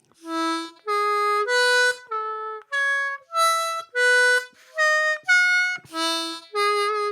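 Diatonic harmonica sounds a run of about eleven sustained chords and notes in separate breaths, one reaching up with a strained 5-hole overblow, close and clear with no talking.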